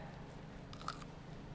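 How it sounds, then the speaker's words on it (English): A single crisp crunch of teeth biting into a blanched green bean, close and brief, followed by faint chewing in an otherwise quiet kitchen. "Did you hear the crunch?"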